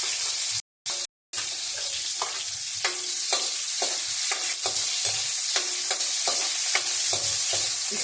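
Garlic and onion sizzle steadily in a hot pan for a simple pakbet, a dense frying hiss broken by two brief dropouts and repeated light spatula scrapes and taps, with no talking.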